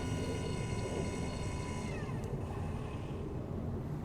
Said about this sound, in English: A couple more planes going across the night sky.